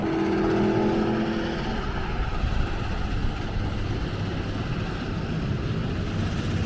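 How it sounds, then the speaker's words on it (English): Race cars, an Audi R8 GT3 and a Porsche, roar past on the Spa-Francorchamps circuit, a steady distant engine drone with a rising and fading whine heard throughout. "I think I can hear an R8 GT3 car and a Porsche."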